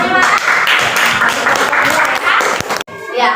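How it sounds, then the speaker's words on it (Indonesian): A classroom group at a teacher-training session claps loudly in a dense, continuous burst, with young voices mixed in; the clapping cuts off abruptly near the end before some brief noise resumes. "Iya, tepuk tangannya mana?"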